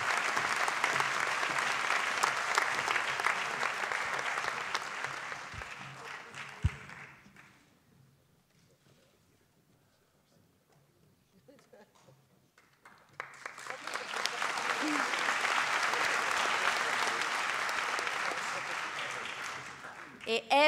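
Audience applause at a student day ceremony as school scholarships are handed out: a sustained wash of many hands clapping, fading into near silence for several seconds, then rising again into a second long round of clapping.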